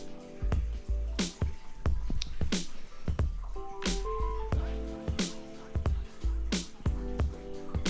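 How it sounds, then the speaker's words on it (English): An aquarium water changing siphon pulls gunk out of a gravel substrate, giving steady wet sucking and gurgling with repeated sharp drips and splashes, close and fairly loud throughout. "sucking up all that gunk, stirring up the substrate."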